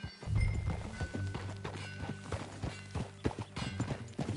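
Horse hooves clip-clopping at a steady rhythm while riding in Red Dead Redemption 2, crisp repeated strikes close by under a quiet game soundscape with no talk.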